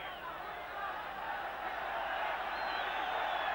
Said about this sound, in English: Crowd getting on the backs of the Yugoslav players, getting to get on with it.